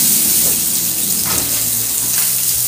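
Tilapia frying in hot oil gives a continuous, loud, close sizzle with a bubbling crackle and a few brief bursts of spatter, with nobody speaking.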